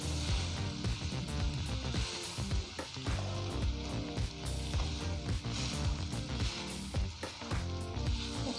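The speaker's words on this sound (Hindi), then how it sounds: "हम पलटे से इस तरह इसको दबा दबा के, इस तरह से सारे आलू दबा दबा के मिक्स कर देंगे" Spatula pressing and mixing mashed potatoes with capsicum in a hot pan for a sandwich filling: continuous loud sizzling and frying with repeated scraping, squishing strokes, close up and without voices.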